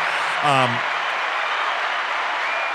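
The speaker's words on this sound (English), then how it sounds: "Another applause." Applause on a podcast hisses along as a steady, moderately loud wash, with a short voice cutting in near the start.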